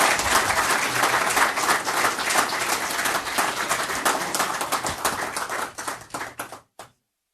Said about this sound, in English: if we could get a round of applause for our police explorers